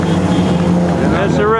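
Vintage Fiat race cars in the Mille Miglia road race, two passing close by with a loud, steady engine drone that rises in pitch toward the end, alongside people talking.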